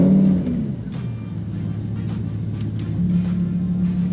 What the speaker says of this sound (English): in your standard sport mode, the car is just incredibly loud.